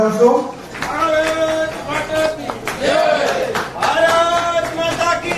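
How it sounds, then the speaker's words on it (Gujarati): An audience at a Gujarati political gathering claps to welcome a politician rejoining the party, a crowd's applause heard beneath a speaker's amplified voice that continues over it. "આપ સૌ એમને પણ તાળીઓના ધન્યવાદથી"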